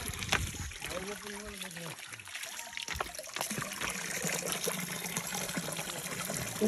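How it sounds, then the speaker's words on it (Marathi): Spring water in the Satara countryside flows on without pause in a soft, continuous trickle while people talk nearby. "कंटिन्यू चालू असतं ते पाणी, बंदच होत नाही"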